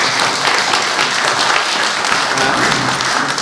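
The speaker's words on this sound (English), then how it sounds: "there's rapturous applause." An audience applauding after a presentation on a regional council's accreditation: dense, sustained clapping from a crowd, loud and even throughout, with no pauses or talk over it.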